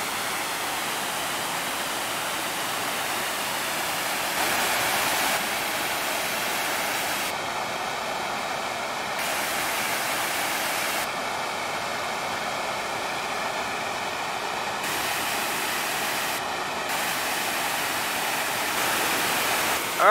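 Upper Moccasin Creek Falls pours down in a steady, full-bodied roar heard from close by, an unbroken rush of falling water that holds level for the whole stretch with no voices.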